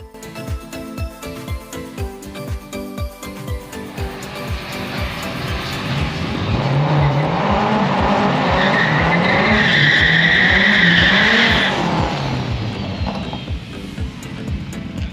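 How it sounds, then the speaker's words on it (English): A K20 turbocharged Honda Civic does a second-gear burnout at a drag strip, its engine revving hard as the tires squeal loudly and continuously, the noise swelling to a peak and then easing off. "That was a second gear burnout."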